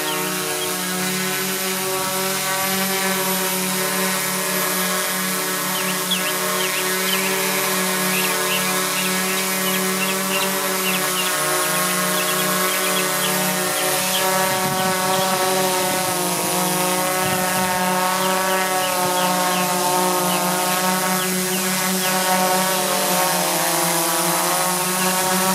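Steady, loud rotor drone with a constant tonal hum and whine from Turnigy Multistar Elite 4006 740kv motors, holding level throughout with no voices, as the multirotor hovers close by.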